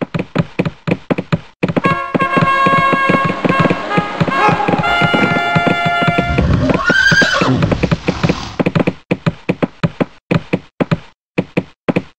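A horse whinnies loudly in the PC strategy game Rival Realms over a busy backdrop of music and rhythmic thumping hoofbeats, with the neigh rising and falling near the middle.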